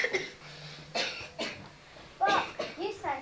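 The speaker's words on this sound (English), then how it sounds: "Can't stop coughing." A child suffering from whooping cough lets out several harsh, spasmodic coughs in quick bursts, close and moderately loud.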